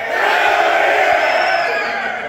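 A crowd of men at a wedding reception lets out a loud, sustained collective shout in the style of Stone Cold Steve Austin's 'Hell yeah', a roaring cheer that holds steady for about two seconds.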